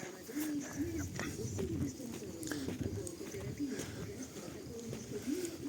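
Pigeons coo in low, repeated throaty calls amid busy outdoor noise, with faint voices in the background.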